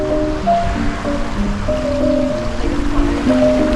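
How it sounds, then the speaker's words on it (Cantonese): Fast-flowing river in Canmore in the Canadian Rockies, a loud, continuous rushing and gurgling of water close by, steady throughout with no voices. "流得咁快嘅啲水，"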